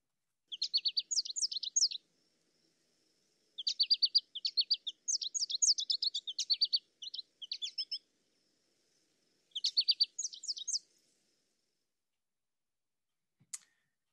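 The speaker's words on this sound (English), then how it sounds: "Okay, and the American goldfinch." An American goldfinch sings in several quick bursts of high, twittering notes separated by pauses, clear and close, followed by one faint click at the very end.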